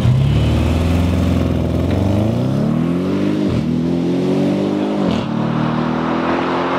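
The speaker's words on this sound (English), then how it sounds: "That is literal supercar acceleration right there." A 2016 Audi RS7 accelerates hard from inside the cabin, its engine droning loud and close. The pitch climbs steadily through the gears, with brief dips at each upshift.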